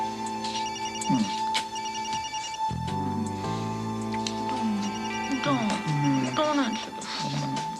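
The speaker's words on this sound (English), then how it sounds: "Don't answer the phone. I hate the phone." A telephone rings repeatedly with a steady electronic trill during a TV soap opera scene, with dialogue and background music playing under and around the rings.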